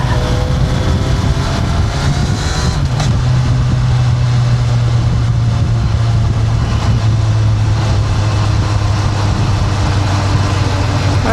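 A Kawasaki Ninja 1100SX sport-touring motorcycle engine on the move makes a loud, constant drone mixed with rushing wind. The noise stays steady and close throughout, with no voices.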